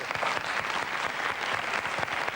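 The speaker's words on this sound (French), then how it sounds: "je les applaudis" Studio audience at a French television show clapping steadily and densely, a sustained burst of applause close and loud throughout.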